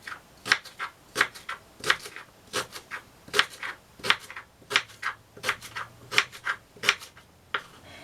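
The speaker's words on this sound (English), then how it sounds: "I peel it, and then I cut it in small pieces like this" A knife chops peeled rhubarb stalks into small pieces on a board, giving a steady series of about a dozen crisp, close, evenly spaced cuts.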